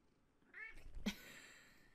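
A cat meows twice, a short rising call followed by a longer, louder meow, then a brief third sound at the end, close by with a quiet background.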